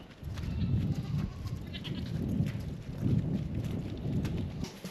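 A group of goats gives low, throaty bleats in repeated pulses, close and moderately loud, with a faint breezy background.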